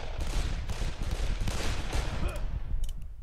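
Rapid gunfire in the first-person shooter Darkest of Days, dense continuous bursts of loud shots with a few sharp higher clicks near the end, no voices.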